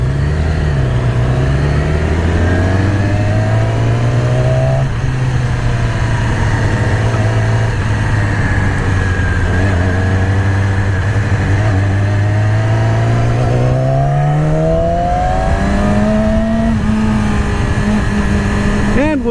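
A Yamaha R6 motorcycle engine revs hard in first gear, its pitch climbing, falling and climbing again in long sweeps, loud and close throughout with a rider talking over it.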